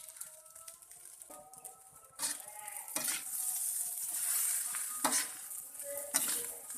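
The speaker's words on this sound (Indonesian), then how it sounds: "Kita tuangi telurnya" Eggs frying and being stirred into fried rice made with nasi ampok in a home kitchen pan, a steady close sizzle with repeated scraping and stirring clatters of a utensil against the pan, growing louder after the first couple of seconds, no talking.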